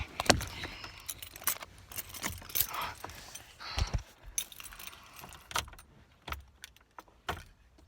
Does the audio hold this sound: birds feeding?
no